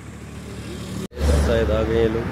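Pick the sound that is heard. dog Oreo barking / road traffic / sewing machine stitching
road traffic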